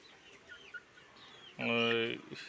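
A native country rooster lets out one loud, close call that rises abruptly partway through, following faint clucks and chicken sounds in the background.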